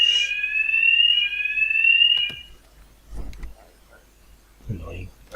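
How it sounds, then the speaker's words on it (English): A fire alarm under test sounds a steady, piercing electronic tone for about two seconds, then cuts off, leaving quiet room noise with a few thumps and faint voices. "Testing the fire alarms."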